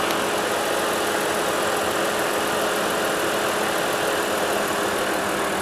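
A 2011 BMW 328i convertible with a three-liter inline six idles with its hood open, giving a steady, even engine hum with no revving, close to the microphone.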